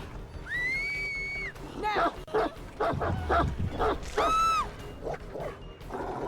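Dog barking in Dead by Daylight, a few sharp barks and yips interspersed with whining, high-pitched tones, fairly close, with someone talking over them.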